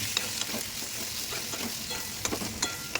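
Close, continuous sizzling from potatoes frying with salt and turmeric in a pan, punctuated by several sharp scrapes and clinks of stirring spread through the clip, with no talking.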